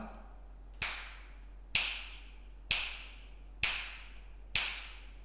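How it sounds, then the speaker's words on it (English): Five sharp finger flicks spaced about a second apart, each a crisp bright snap with a short decaying tail, heard up close and alone in a room lined with acoustic foam panels. "So this is my finger flicking sound."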